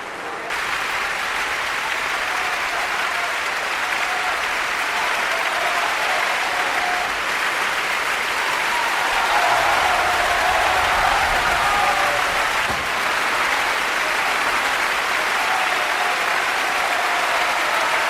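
Audience at a classical concert breaking into applause, a dense, loud and sustained wash of many hands clapping at once that holds steady for the whole stretch without letting up.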